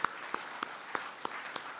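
Sparse, spaced-out hand claps at a school's 25th anniversary felicitation, roughly evenly paced single claps standing out over a hushed room tone.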